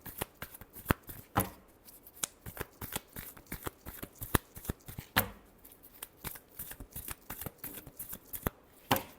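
Tarot cards being shuffled by hand in repeated quick riffles and flicks, close and crisp, with short pauses between bursts and no talking.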